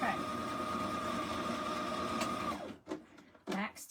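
Sewing machine stitching a purse made from a dish mat, a steady mechanical whir with a clear tonal hum running for about two and a half seconds before stopping, followed by faint handling noises and a voice.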